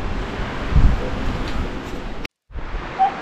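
Strong outdoor wind buffets the microphone in a steady broadband roar with gusts, cut by a brief dropout near the end, heard at a backyard woodworking spot while a door piece is being cut.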